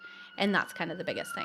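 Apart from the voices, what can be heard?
emergency vehicle sirens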